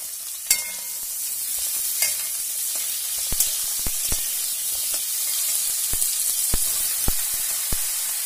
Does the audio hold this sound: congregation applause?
no